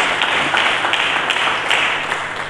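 A church congregation applauds during a Sunday sermon, a steady wash of many hands clapping at moderate loudness throughout, without a distinct spoken voice over it.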